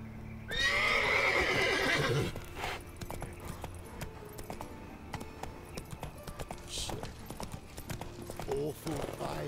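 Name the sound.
horse Roach trotting and neighing in video game The Witcher 3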